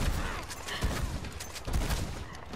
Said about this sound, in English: All these bullets to one guy?